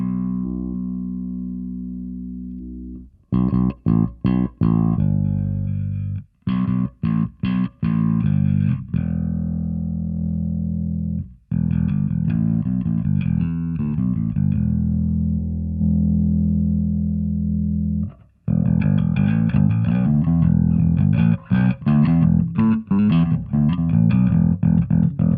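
Bass guitar played through overdrive drive pedals with the drive set low, giving a gritty, saturated tone; phrases of notes start and stop with short gaps between them, loud and close with no talking.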